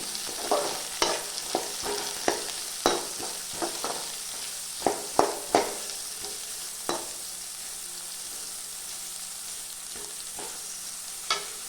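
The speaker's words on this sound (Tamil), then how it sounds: "இந்த வெங்காயத்தை நல்லா வதக்கிக்கலாம்." Onions sautéing in a pan for a drumstick fry, with a steady close sizzle broken by repeated sharp scraping strokes of a spoon, busy at first and sparser later, with no talking.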